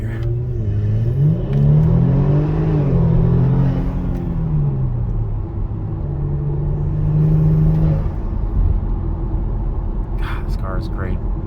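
A Kia Stinger GT fitted with ARK downpipes drones steadily from inside the cabin, its engine pitch rising and falling as the car accelerates, while someone talks over the low rumble.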